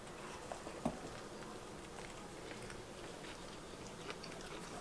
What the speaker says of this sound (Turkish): Yine böyle büyük bir lokma alarak başlayalım